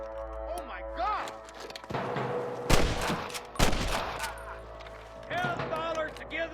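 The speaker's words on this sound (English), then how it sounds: "I can hear more gunshots." Gunfire in a Red Dead Redemption ranch shootout crackles in several sharp bursts, with loud close shots punctuating the scene and character voices talking between them.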